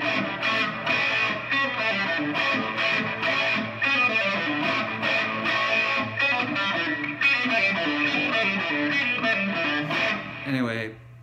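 Electric guitar with a distorted tone plays the opening of a song, a steady run of picked notes over a sustained low tone, loud and continuous before ending in a brief falling flourish.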